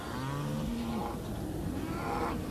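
Dairy cows on a farm low loudly, with a long drawn moo followed by further bellowing calls against steady outdoor background noise.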